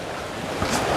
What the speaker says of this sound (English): This trail follows this stream for quite a while.